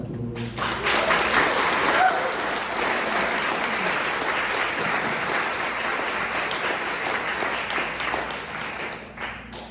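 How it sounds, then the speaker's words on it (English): Loud, sustained audience applause at a panel event on anti-2SLGBTQ+ hate, dense clapping that swells quickly, holds steady for several seconds, then tapers off with no voices over it. "let's just give an opening round of applause to Lily"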